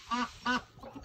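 Two loud, close duck quacks near a small cabin in the forest, each a short harsh burst, followed by softer, fainter bird calls with no talking.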